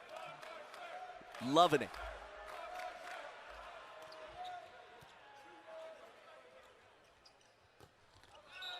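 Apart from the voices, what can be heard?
crowd on the sideline at a volleyball match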